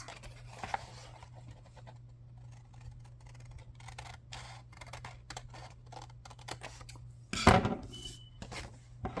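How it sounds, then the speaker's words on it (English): Scissors snip along a marked line to cut out a tuxedo pocket, a series of soft, close crisp cuts with a low steady hum beneath and one louder rustle near the end. "I'm just going to cut right there on that line, kind of the best I can, and cut this center one out"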